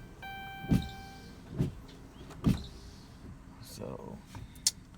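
A Dodge Charger failing to start: three separate short mechanical clunks with a faint whir between them, fairly quiet and close, plus brief clicks near the end.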